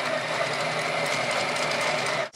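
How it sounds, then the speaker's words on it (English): A sewing machine stitches green screen fabric in one continuous, fast, buzzing whir that runs close and loud before stopping abruptly. "And now we sew."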